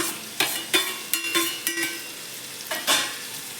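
Cluster beans (gorikayi) being stir-fried in a pan for palya, with a series of sharp spatula scrapes and clicks over a soft sizzle, close up and unaccompanied by speech.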